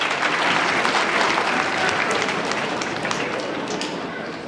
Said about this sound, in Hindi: जनाब खालिद नजीब सरवर्दी साहब ज़ोरदार तालियों के साथ इनका इस्तकबाल करें।